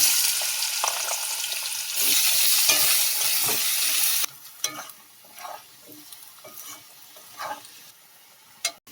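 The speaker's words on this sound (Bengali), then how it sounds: "এবার আমি আলুটা ভেজে নেব।" Potatoes frying in hot oil for a prawn and banana-flower dish, a loud dense sizzle at first that drops to quieter crackling with intermittent spoon stirs and clinks against the pan, no voices.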